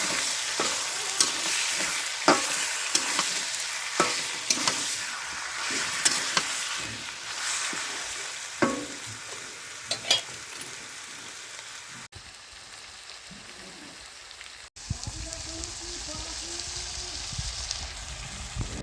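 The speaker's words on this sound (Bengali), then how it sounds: "তো সবটুকু মাংসই আমি কড়াইয়ের মধ্যে ঢেলে দিয়েছি।" Broiler chicken meat frying in a wok on a new stove, with a steady close sizzle and repeated sharp scrapes and clacks of stirring, changing to a fainter sizzle toward the end.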